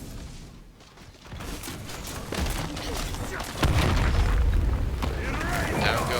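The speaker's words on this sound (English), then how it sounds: "Down goes Osage's mid turret" A mid turret collapses in a SMITE match with a heavy boom and rumbling blast, rising sharply about midway and holding loud, under continuous excited commentary.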